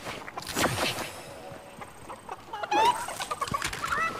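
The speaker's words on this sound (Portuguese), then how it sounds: "Cadê a galinha?" Chicken clucking in the video game Fortnite, a few scattered clucks and squawks over soft game ambience with a brief rustle like flapping, moderately close.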